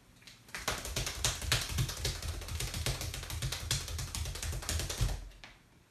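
Hambone body percussion is slapped out in a fast, even stream of crisp hand-on-body hits, imitating the rattling spin of an old push reel lawnmower. The pattern is played alone and close-up for about five seconds.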